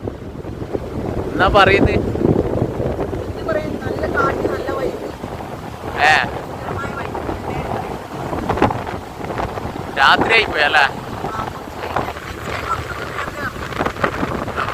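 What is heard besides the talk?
strong wind at Mattool beach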